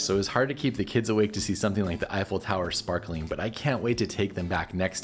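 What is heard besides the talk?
No distinct noise like a dog, phone or traffic.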